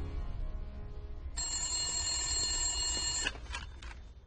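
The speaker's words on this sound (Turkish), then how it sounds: "Telefon qo'ng'irog'i chalindi." A telephone rings at a police station duty desk in an Indian film, a bright electronic trill that begins partway through over a low background hum and then breaks into a few short bursts.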